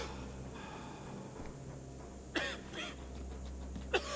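A character in the video game Saw II lets out two short, quiet coughs, spaced apart over a low steady background hum.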